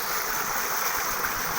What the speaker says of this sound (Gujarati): શેણામાં પાણી વાળવાનું છે તો વાળે છે.